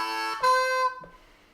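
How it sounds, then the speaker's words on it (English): A harmonica lick opens with a 2-draw whole-step bend, a single bent note sliding up, then a held tone and a short fading note, played alone and close. "We're starting with a 2-draw whole step bend on beat 4."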